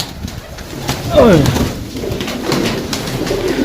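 Pigeons coo in a rolling, throaty burst near the middle, fairly close, with other pigeon calls and scattered sounds around them in a loft setting.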